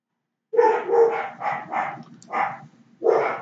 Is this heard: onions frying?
no